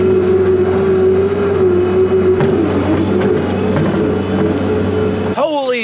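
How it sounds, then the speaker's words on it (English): A skid steer loader engine running hard at speed on a potato harvest, a steady loud drone that holds throughout and drops away abruptly near the end. "Now this skid steer loader, pretty fast. I'll be there in no time."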